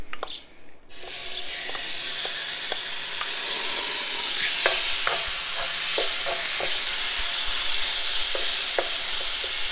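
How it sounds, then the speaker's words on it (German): Chicken pieces go into oil in a preheated Dutch oven. After a brief quiet moment a loud, sustained sizzle bursts on and holds, with scattered sharp pops and crackles throughout. "Unser Dutch Ofen ist schon heiß, der hat schon ein bisschen Öl drin und da braten wir jetzt erstmal unser Hähnchen an."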